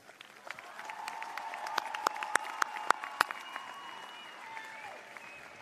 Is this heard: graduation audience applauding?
yes